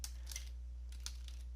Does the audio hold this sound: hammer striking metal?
no